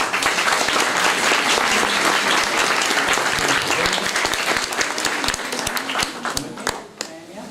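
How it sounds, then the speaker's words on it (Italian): Sustained applause from an audience honoring an art teacher and her students, dense steady clapping that thins and fades toward the end. "al quale veramente meritano un applauso"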